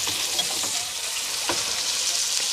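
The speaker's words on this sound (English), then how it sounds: "Let that keep frying up" A T-bone steak fries steadily in a pan, giving a constant close hiss and sizzle with occasional small pops.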